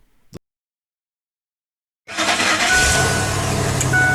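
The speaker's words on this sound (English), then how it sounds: "just showing him turning on a car with water, hydrogen" A car engine said to run on water and hydrogen starts up after about two seconds of silence, then runs at a steady, loud, broadband roar until the end, with a brief faint noise near the start.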